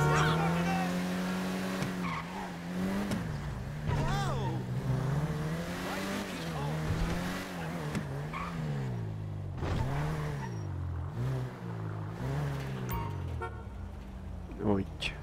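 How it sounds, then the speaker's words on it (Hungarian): In Grand Theft Auto V, a car's engine revs and whines as it pulls into a garage, with rising and falling pitch, brief tire squeals and a horn-like toot, under steady talk. "Átmegyek Franklinhez, csak előbb ezt az autót beteszem a garázsba."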